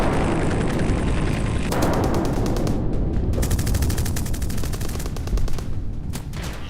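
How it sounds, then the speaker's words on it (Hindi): The 30 mm cannon of a Ka-52 attack helicopter fires in loud, rapid bursts, hard rattling shots in quick succession with brief gaps between volleys, close and dominant throughout. "इसमें लगी 30 mm की तोप दुश्मन के खेमे में आसमान से कहर बरपा देती है।"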